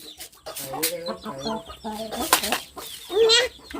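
Chickens clucking close by in short irregular bursts, with a higher squawk near the end, mixed with other brief sounds and a voice calling to them.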